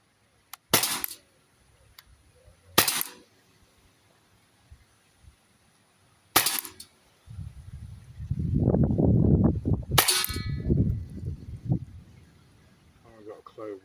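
Umarex Glock 17 Gen 5 pellet pistol fired four times, sharp separate cracks spaced a couple of seconds apart, with a person talking between the later shots.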